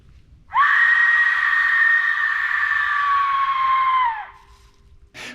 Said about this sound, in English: when blown, emits one of the most unsettling human-like screams you will ever hear